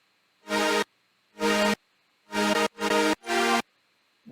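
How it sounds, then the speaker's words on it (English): Five bright, buzzy synth chords from a detuned square wave layered with a detuned saw wave an octave higher, each held about a third of a second, separated by short silences. "that's basically just a detuned square wave with a detuned saw wave that's an octave higher"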